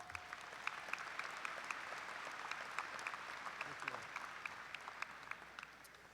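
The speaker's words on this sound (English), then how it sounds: "Please give them all a round of applause." A large audience at a Murray State University commencement applauds steadily for honorees, a dense, even wash of many hands clapping at a distance in a big hall, sustained and fairly faint.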